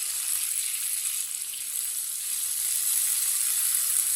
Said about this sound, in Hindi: टमाटर और सब्ज मिर्च को भी 2 मिनट के लिए पका लेंगे